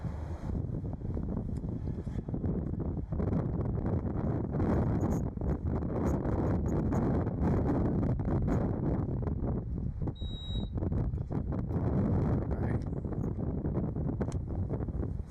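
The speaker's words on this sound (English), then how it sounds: "Windy out here." Steady, heavy wind roars and buffets the microphone outdoors for the whole stretch, with gusty rumbling bursts and no one speaking.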